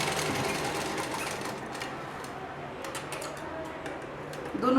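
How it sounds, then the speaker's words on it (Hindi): Sewing machine running steadily while stitching a double reinforcing seam on fabric, a continuous close mechanical whir throughout with a brief louder burst at the end. "आप पक्की सिलाई लगा लेंगे डबल"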